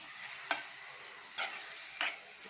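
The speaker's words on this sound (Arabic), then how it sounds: "ونقلب كده ونشوحهم تشويحة محترمة" Chicken breasts are stir-fried in a pan with a soft background sizzle, broken by three sharp scraping stirs of the utensil, quiet and close.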